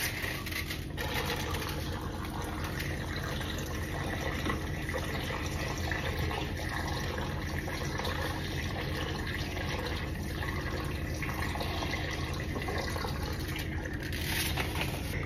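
Fresh water runs from a tap in a steady, continuous stream, a close, even trickle and hiss that carries on throughout with no talking.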